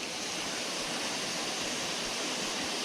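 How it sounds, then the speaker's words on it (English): Waterfalls pour into large pools along a brook trout stream in Shenandoah National Park, a steady, close, full-bodied rush of falling water with no voices. "We are coming into more and more of these big pools with large waterfalls dropping into them."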